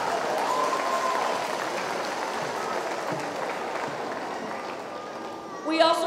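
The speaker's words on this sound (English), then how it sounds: "So give yourselves a round of applause for hanging with this." An audience at a district band festival gives a broad round of applause, with steady crowd clapping at moderate loudness that tapers slightly. A brief squeal of feedback or a whistle-like tone comes near the end.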